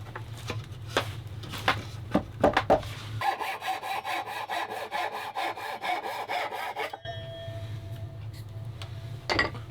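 A hand saw cuts wood while building a simple shave horse, giving steady, rhythmic back-and-forth strokes close by and fairly loud, with short pauses between bursts of cutting and no talking.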